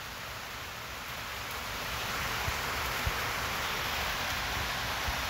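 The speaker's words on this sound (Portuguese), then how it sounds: "Tá chovendo, galera, então desculpa." Steady rain falling, a soft continuous hiss with occasional faint drop ticks, quiet and even throughout.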